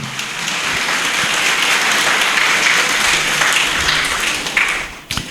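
A church congregation at an Easter Sunday service at Heavenly Vision Christian Family Church claps loudly and continuously, a full, close roar of hands that thins out near the end.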